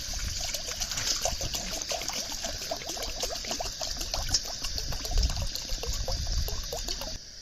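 Ice water trickles and pours steadily into a bowl for fried chicken batter. The pour sounds close and continuous, with a light splashing dribble lasting throughout and no talking.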